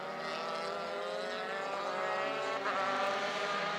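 Euro Formula Open single-seater race cars stream past at the Barcelona circuit during qualifying, a loud continuous blend of high-revving engines with layered rising and falling pitches heading toward a heavy braking zone.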